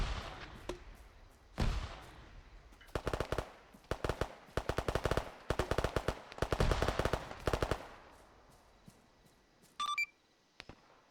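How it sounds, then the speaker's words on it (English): Arma 3 gunfire at a respawn point, with a few single shots followed by repeated rapid automatic bursts, sharp and loud, and a brief electronic beeping near the end. "They're shooting on the respawn point."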